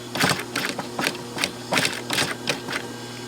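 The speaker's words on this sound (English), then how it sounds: "And then you sew." A sewing machine stitches a zipper fly into a pair of jeans, giving quick rhythmic bursts of clattering needle strokes that stop and start at close range, with no talking.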